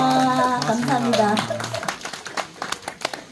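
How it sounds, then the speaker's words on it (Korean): Applause at a temple Arahan cultural festival starts under a man's amplified speech and continues as scattered clapping that thins out near the end. "다시 한번 큰 박수 주세요"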